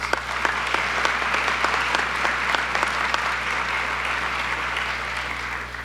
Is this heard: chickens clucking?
no